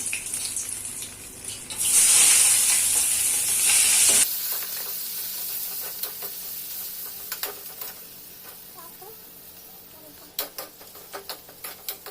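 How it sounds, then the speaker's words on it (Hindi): Onion and bay leaf frying in hot oil in a home kitchen, a loud burst of sizzling as they hit the pan, then settling into a softer crackle with light stirring and utensil taps. "तेजपत्ता देकर प्याज दे देना"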